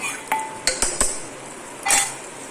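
Karela masala tipped into hot oil in a pan and stirred with a metal spoon for a Kathiawadi stuffed bitter gourd dish, a few sharp clinks and scrapes against the pan over a faint sizzle.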